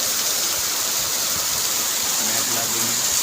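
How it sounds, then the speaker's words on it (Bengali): Heavy rain falls in a thick, rushing wash like running water, steady and close, with a faint voice surfacing briefly near the end. "প্রচুর বৃষ্টি পড়ছে।"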